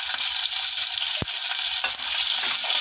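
Two big onions with a green chilli and a dried red chilli sizzle steadily in hot oil in a pan, a continuous close hiss with a sharp clink of a spoon midway and light stirring scrapes.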